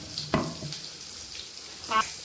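Bitter gourd frying with garlic in hot oil, a soft sizzle with a couple of brief stirring clatters, fairly quiet.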